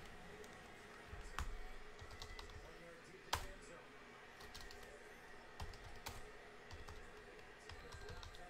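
Keyboard typing entered into a dice-roller randomizer during a sports card box break, heard as scattered soft clicks with a few sharper keystrokes over low room noise.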